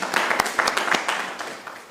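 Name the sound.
applause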